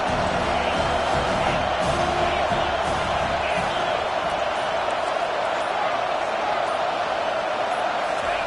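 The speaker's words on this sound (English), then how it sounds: "The crowd getting behind this defense as they try to get a stop in the red zone." Stadium crowd in the NCAA 25 college football video game, a steady dense roar of cheering fans during a red zone defensive stand, continuous and fairly loud throughout.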